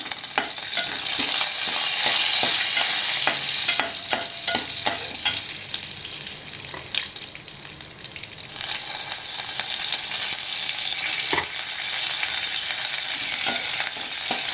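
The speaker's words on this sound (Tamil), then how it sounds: "சீரகம் பொரிஞ்ச பிறகு கருவேப்பிலை போடணும்." Cumin seeds and curry leaves fry in hot oil with a dense, loud crackling sizzle and frequent sharp pops, while a spoon stirs throughout at close range.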